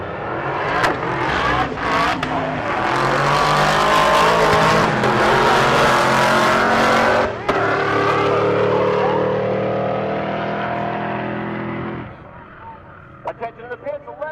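A GT500 stick-shift race car roars loudly down a drag strip at Rocky Mountain Race Week, its engine revving hard through gear changes and then fading into the distance, while an announcer talks over it.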